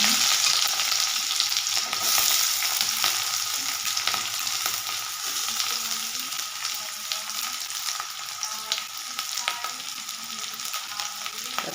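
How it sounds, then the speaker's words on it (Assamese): Oil and chilies sizzle and crackle steadily in a hot wok on a home stove, a dense, continuous frying hiss with occasional stirring scrapes, close and fairly loud with no talking. "মই পিনে কেৰাহীটোত তেল দি দিছোঁ অলপমান"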